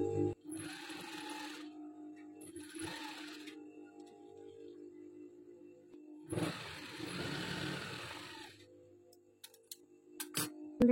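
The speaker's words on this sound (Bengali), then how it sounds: "চাপ সেলাই দিয়ে দিচ্ছি ভালো করে ফিতাটা আটকে থাকার জন্য" A sewing machine runs in three bursts of rapid, whirring stitching as it sews a ribbon down onto fabric, with short quiet pauses between runs and a few clicks near the end.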